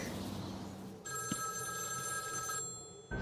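An old-style telephone bell rings in the Batman Arkham City video game, a sharp metallic ring bursting in over a low ambient hum, sustained for about a second and a half before stopping, with no talking.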